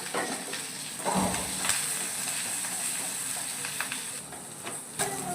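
Pirandai (adamant creeper) sautéing in a pan gives a faint, steady sizzling hiss, with a few soft stirring clinks and nobody talking.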